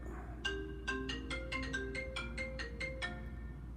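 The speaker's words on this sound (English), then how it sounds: "Obviously the phone's ringing." A telephone ringtone playing a quick melodic sequence of bright, plucked tones over a low steady hum.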